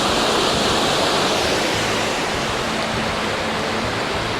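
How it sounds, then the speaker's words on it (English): Holmes Linn waterfall in Northumberland gives a loud, steady broadband roar of rushing, falling water, constant and close with no voices over it. "There's the waterfall, Holmes Lin."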